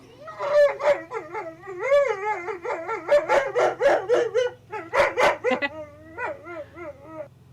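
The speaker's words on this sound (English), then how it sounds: "Oh, he's a whiny pup." A pup whines and yelps in rising, wavering cries, a run of close, loud whimpers and short yips broken by brief pauses, with faint background hum.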